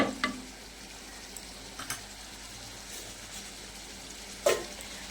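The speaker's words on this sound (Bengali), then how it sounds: "এবার আমি কষাতে থাকি মাংস দেওয়ার আগে" Spice paste stirred and frying in a clay wok before mutton goes in: a quiet steady sizzle with a few sharp scrapes of the spoon against the pan, no voices.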